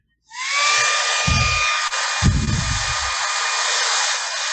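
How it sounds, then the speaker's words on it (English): A hair dryer switches on and blows with a steady, loud whirring rush and a faint high whine, with brief low thumps partway through. "So this will dry pretty quick using the blow dryer."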